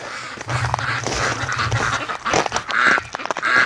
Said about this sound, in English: let's go down and let the ducks out here